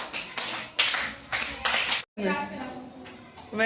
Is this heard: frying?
no